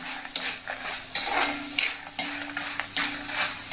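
Dry red chillies frying slowly over a low flame in a pan for ginger chutney, with a steady soft sizzle broken by several sharp stirring scrapes and clinks of a utensil.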